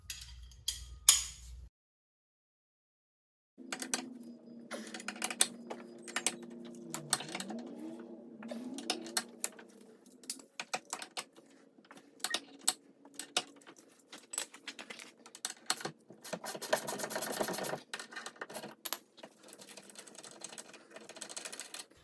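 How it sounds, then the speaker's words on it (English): A ratchet on a 21 mm socket works loose the brake caliper bracket bolts on a C6 Corvette, giving quick bursts of rapid clicking with pauses and small metallic clinks, close and fairly quiet, with no talking. "I've got a 21 millimeter here, and I'm going to go ahead and remove those two bolts to slide the caliper away from the rotor."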